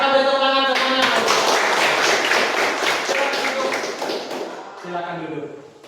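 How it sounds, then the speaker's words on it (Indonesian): An audience claps in a dense, lively round of applause that swells and then thins out, with voices speaking over the start and end. "kita beri tepuk tangan semuanya"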